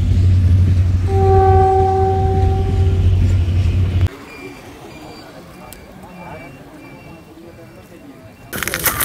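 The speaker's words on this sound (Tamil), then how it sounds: "கொழும்பு ட்ரெயின் ஒன்று போய் கொண்டிருக்குது இந்த இடத்துல" A train bound for Colombo passes close by, a loud sustained horn-like tone and heavy rumble dominating the first four seconds before fading to a quieter rolling clatter, with people talking nearby.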